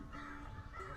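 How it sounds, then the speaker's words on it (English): A crow gives one short, harsh caw that fills the brief moment on its own, fairly close. "Oh, Miss Crow."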